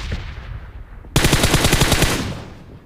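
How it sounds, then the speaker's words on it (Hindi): Loud automatic gunfire from BGMI / PUBG Mobile erupts suddenly after a quieter moment, a rapid rattling burst lasting around a second and then fading out. "हर तरफ से गोली चलने की आवाज़ आ रही होती है"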